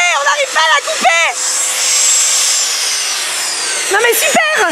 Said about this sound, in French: on n'arrive pas à arrêter la scie